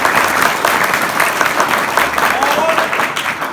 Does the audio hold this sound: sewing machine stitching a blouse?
no